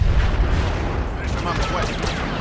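Blaster fire in Star Wars Battlefront rolls in as a dense, booming battle din, with rapid shots and explosions blending into a continuous loud wash and fainter zaps on top.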